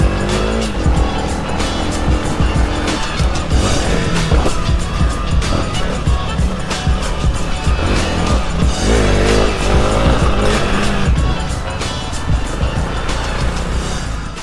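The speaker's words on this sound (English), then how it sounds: "She sounds like she's hitting rev limiter going up the hill." A TTR dirt bike engine strains near its rev limiter while climbing a gravel trail, a loud, steady, bouncing buzz held for the whole stretch with tire noise and scattered crunching on top.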